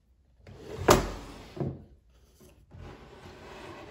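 A wooden drawer of a wax carving bench slides open with a thump and scraping rub, followed by a second knock and a softer sliding sound.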